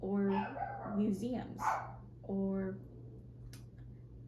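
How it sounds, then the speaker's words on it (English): A dog barks several times nearby, sharp woofs mixed with a person speaking quietly. "I'm gonna see if he's gonna stop barking."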